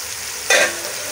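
Ground coriander, cumin, turmeric and red chili powder tipped into a hot pan for a Pakistani-style spinach and lentil curry, giving one sudden brief sizzle and stir that quickly fades back into a steady low background hiss.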